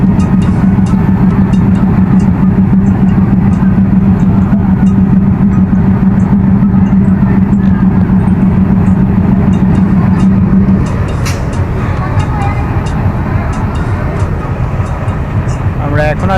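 A train pulls away from the platform at Vanga railway station in Faridpur, Bangladesh, its steady low rumble loud and continuous before easing off, with station noise and scattered sounds around it.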